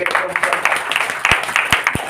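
Religious gathering applauding a woman from the congregation, brisk scattered clapping from a group, fairly close, with a few sharper, heavier claps near the end and a voice faintly underneath.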